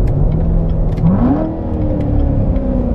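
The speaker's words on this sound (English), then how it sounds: "Downshift a couple of shifts." Engine of a 2017 Chevrolet Corvette Z06 revs loudly as the car downshifts, the pitch climbing through a blip and then holding steady, heard from inside the car with no talking.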